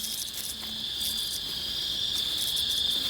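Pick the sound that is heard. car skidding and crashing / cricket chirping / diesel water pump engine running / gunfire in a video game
cricket chirping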